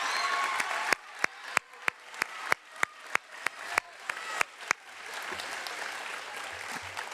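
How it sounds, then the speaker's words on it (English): Applause for a student council at a Heritage Academy Mesa awards ceremony, heard as a faint wash of crowd clapping broken by a run of about a dozen sharp, evenly spaced loud claps close by, then a soft murmuring crowd. "Give them a round of applause."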